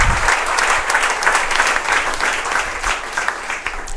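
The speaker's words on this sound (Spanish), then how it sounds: "Fuerte el aplauso para nuestro Señor." Loud, sustained applause fills a church hall during an evangelism class, many hands clapping together in a dense, even wash that holds strong throughout.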